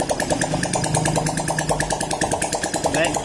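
Suzuki Raider J 115 motorcycle engine running with no exhaust pipe fitted after an engine teardown, a loud, rapid, raw popping beat close by, holding a steady idle-like rhythm throughout.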